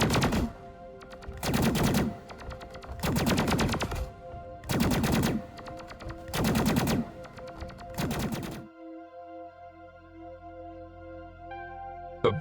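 Burst Turret firing plasma in Deep Rock Galactic: six loud, evenly spaced bursts of rapid crackling fire about a second and a half apart, then a lingering electronic hum and tones with no voices.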